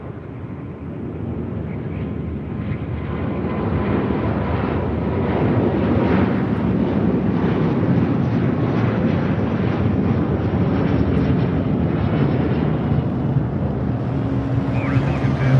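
Delta Air Lines A330neo jet taking off from runway 25 left at LAX, a loud, steady broadband engine roar that swells and holds for the whole stretch, heard from nearby with wind buffeting.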